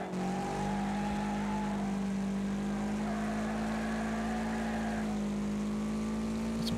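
Race car engines in the video game Wreckfest, with a steady high-revving drone and a rising whine from cars closing in behind, loud and continuous with no talk over it.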